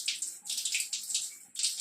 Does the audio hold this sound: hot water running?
yes